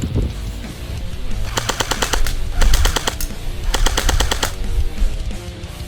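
A CM.508 airsoft gun fires full auto in three rapid bursts of sharp, evenly spaced cracks, loud and close, with short pauses between bursts and no talking.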